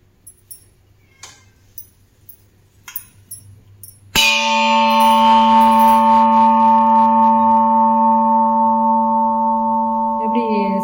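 A heavy, thick-walled biryani cooking pot is struck once and rings out loud and sustained like a temple bell, a steady metallic tone that slowly fades, preceded by faint scattered taps.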